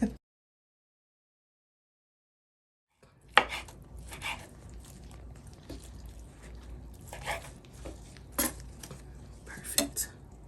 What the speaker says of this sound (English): we're gonna get our chicken and we're gonna get to chopping it on up